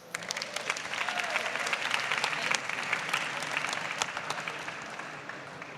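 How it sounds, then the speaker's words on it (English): Dense, steady applause from a conference audience at the Reset Connect London 2024 pitch-and-invest grand finale, greeting a startup founder coming on stage to pitch. It stays loud and continuous throughout, with no break. "I want a big round of applause from each and every one of you here today"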